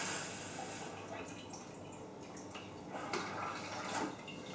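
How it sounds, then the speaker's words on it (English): Hot water running from a kitchen tap into a jug, a steady continuous splashing flow with small drips and fluctuations, moderately close and alone. "run the hot tap until the water is warm. And then fill your jug"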